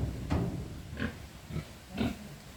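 Pigs being raised on a farm grunt in four short, separate bursts about half a second apart, fairly close against quiet background noise.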